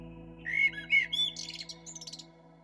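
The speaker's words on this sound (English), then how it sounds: "how beautifully you sing. Sing it once more for me." A songbird sings a quick series of bright whistled chirps and trills, clear and near against a quiet steady background hum, with no voices.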